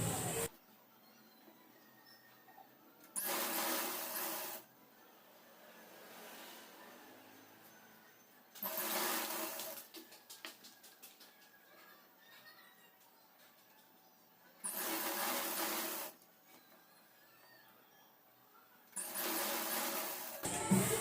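A tailoring sewing machine stitching a saree petticoat runs in four separate bursts of steady whirring, each lasting a second or two, with quiet pauses between them.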